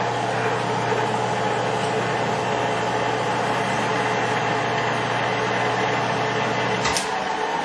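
A Standard Modern 13 x 20 precision lathe with a Camlock D-1-4 spindle nose runs steadily at 100 RPM, giving a constant low hum and a broad mechanical whir with no break, plus one brief knock near the end.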